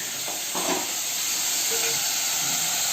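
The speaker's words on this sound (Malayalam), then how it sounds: "നമ്മൾ സവാളായിട്ട് വഴറ്റുകയാണ്" Onions sautéing with salt in a pan, a steady close hiss of sizzling frying throughout with a few light stirring clinks, no talk over it.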